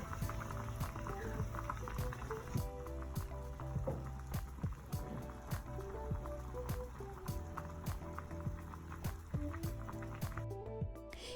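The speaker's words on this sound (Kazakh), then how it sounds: "Оның үстіне осы тофуды салып, 10-15 минутқа қайнатамыз." Miso soup with seaweed and tofu simmering in a pot, a steady close bubbling and gurgling with small pops and ticks repeating throughout, no speech.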